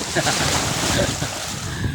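Wind buffets the microphone at a seaside beach while waves wash in the background, a constant rough roar of moderate loudness filling the short stretch.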